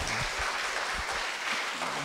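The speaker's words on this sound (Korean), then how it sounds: "여러분들 자신을 위해서 좀 박수 한번 좀 보내주세요." Audience applause at a 2023 EDTS graduation ceremony, a dense, close wash of many hands clapping continuously and fairly loud for about two seconds.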